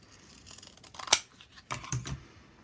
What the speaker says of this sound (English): Trim a little piece of this off.